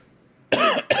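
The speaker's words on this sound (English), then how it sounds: "I'm coughing" A person coughs twice up close, a loud harsh bark followed by a shorter second cough after a brief quiet lead-in.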